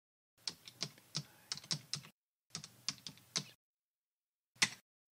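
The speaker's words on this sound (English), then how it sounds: "What we need to do is type in the password for the user." Password typed on a computer keyboard: two quick runs of crisp key taps, close and clear, ending with a single firmer keystroke after a pause, no voices.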